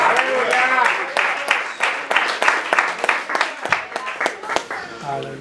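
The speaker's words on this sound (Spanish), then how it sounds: "Un aplauso a Cristo." A church congregation claps at a sermon, a busy scatter of hand claps with voices mixed in, ending with a voice coming through.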